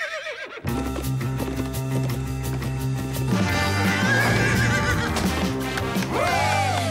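A cartoon horse neighs over hoofbeats and music, the clip-clop steady throughout and a long, loud whinny rising near the end.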